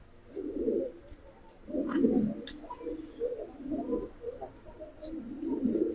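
A pair of Gribaz silver chila pigeons, a male and a female, give soft, throaty coos in repeated bursts of about a second each. The cooing is close and fairly quiet, with a few faint clicks between calls.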